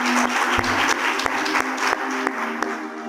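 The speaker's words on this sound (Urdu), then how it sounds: "ایک دفعہ زوردار تالی بجائیں اپنے لیے" A church congregation at a Sunday service claps loudly together in a steady burst of applause lasting about three seconds, with a few sharper claps standing out.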